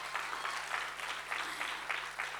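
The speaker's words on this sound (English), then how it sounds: "Give her a big hand of applause." Audience applause at a church sermon, a steady, moderately distant patter of many hands clapping with slight rhythmic surges, fairly quiet overall.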